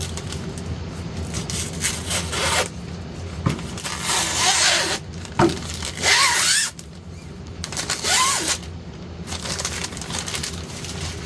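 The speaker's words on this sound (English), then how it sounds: "let's pull off the Peel Ply." Peel ply fabric being peeled off cured fiberglass and epoxy laid over wood on a rebuilt aircraft nose gear, giving bursts of tearing and ripping with short pauses between pulls, close and fairly loud, with no talking.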